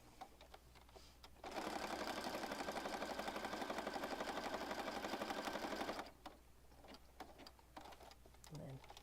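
A sewing machine runs a steady, fast stitching buzz for several seconds while sewing through paper, with quiet talk and small handling noises before and after.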